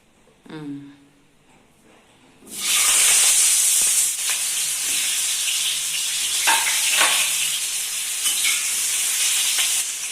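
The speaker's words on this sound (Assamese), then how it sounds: "তেলটো গৰম হ'ল ভালকৈ তাৰপিছত মই আলুখিনি ফ্ৰাই কৰি লওঁ অলপ" Potatoes dropped into well-heated oil set off a sudden loud sizzle that holds as a dense, continuous frying hiss with brief stirring scrapes, after a short quiet moment at the start.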